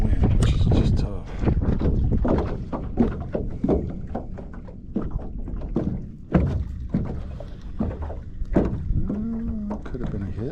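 Wind buffeting a microphone on a fishing boat near Myrtle Grove, Louisiana, a steady low roar throughout with clunks and rattles of gear, while someone talks over it.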